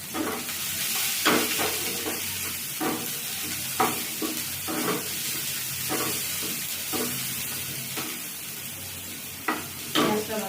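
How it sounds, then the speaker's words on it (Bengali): Chopped onion hits tempered oil and fries with a steady close sizzle, while repeated stirring scrapes come every second or so across the whole stretch, with no voices. "ফোড়নে পেঁয়াজ কুচি দিয়ে দেবো"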